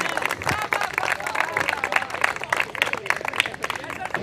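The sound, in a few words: audience applause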